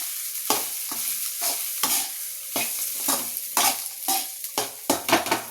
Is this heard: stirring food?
yes